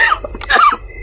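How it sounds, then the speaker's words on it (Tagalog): A man coughs two or three times in a quick, close burst, harsh and raspy, in a cold place at night. "Inuubo na po ako."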